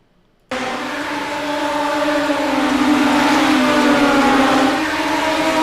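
A midget race car in a sim racing game at Eldora Speedway, its engine holding a loud, sustained high whine that kicks in abruptly after a brief silence and drones on steadily with slight pitch shifts.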